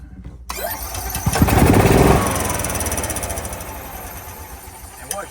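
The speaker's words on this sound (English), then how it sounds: "when you let go of the gas, it's trying to run like it's dieseling" An EZGO golf cart with a Kawasaki FJ400 engine cranks and runs rough, chugging loudly and unevenly as it diesels when the throttle is released, then settles into a ragged idle.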